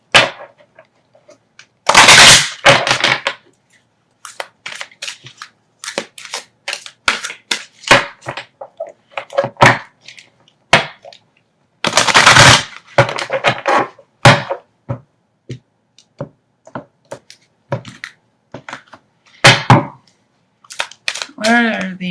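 A deck of tarot cards is shuffled in short, crisp, crackling bursts, with louder riffles near the start and middle and quieter flicks in between. The bursts are separated by pauses.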